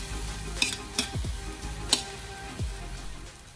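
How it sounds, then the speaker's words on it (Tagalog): Soy sauce searing in a hot pan for chicken adobo: a steady sizzle with a few clinks and scrapes from stirring, close and moderately loud. "Isi-sear lang natin to para mas lumevelap ang lasa ng ating toyo."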